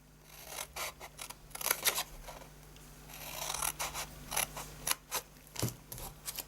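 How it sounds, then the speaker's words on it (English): Scissors snip through card along score lines for a gift box, a quiet series of short crisp cuts in irregular bursts, close and alone without talk. "we're just going to cut up all these score lines"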